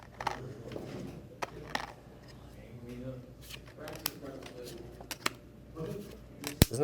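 Playing cards shuffled during a Malifaux tabletop miniatures game, a few brief papery riffles and snaps, close by, amid quiet room noise and occasional talk.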